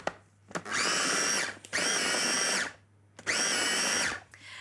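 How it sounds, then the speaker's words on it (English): Food processor blitzing an oriental duck croquette mix in three loud bursts, each a steady high whirring roar lasting about a second, with short pauses between runs and no talking. "then we'll blitz again until it's shredded just a little bit more"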